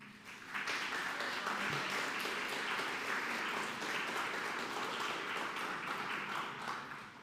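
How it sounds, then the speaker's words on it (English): Attendees at an annual meeting give a round of applause for a strategic planning task force. The clapping starts after a short pause and holds as a steady, dense wash of claps from a moderately sized room before easing near the end. "please have another round of applause for the strategic planning task force"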